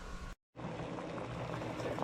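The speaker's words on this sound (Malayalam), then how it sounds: "നമ്മുടെ മുട്ട എങ്ങനെ തിളച്ചുകൊണ്ടിരിക്കുകയാണ്" Eggs boil in a pot of hot salted water, a steady bubbling roll that runs close and fairly loud, broken by a brief silent gap near the start.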